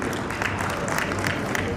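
A crowd at a stage event at Sangam Vatika in Gwalior claps continuously and loudly, welcoming a guest onto the stage, with a dense, even wash of applause throughout.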